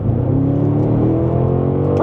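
A 2025 BMW M5 Touring accelerates hard with the throttle floored, heard from inside as a loud, rising engine note that swells steadily through the run.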